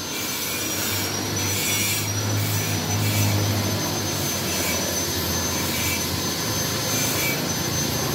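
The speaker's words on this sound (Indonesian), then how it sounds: "Nih kita lanjut bobok bagian depannya buat motong pipa yang ngelingkar di dalam." Steady, rasping cut into the front of a Yamaha Mio motorcycle exhaust to reach the coiled inner pipe, a continuous harsh grinding or sawing noise held at a constant loud level, with no one speaking.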